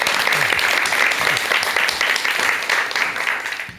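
Steady, loud audience applause welcoming a lecture on a Korean talk program, dense clapping throughout that tapers slightly toward the end, with no talking over it.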